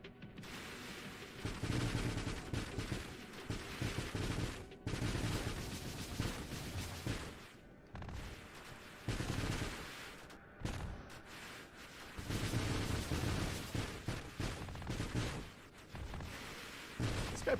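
A ship in the space shooter Nova Drift firing heavy-caliber missiles and projectiles, dense rapid bursts of gunfire and explosions arriving in long waves with brief pauses between, fairly quiet overall.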